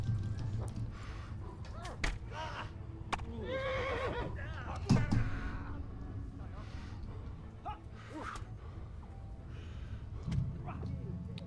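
A horse whinnies in the medieval game Kingdom Come: Deliverance, a few neighs rising and falling amid game sounds and clip-clop, with someone talking over much of it.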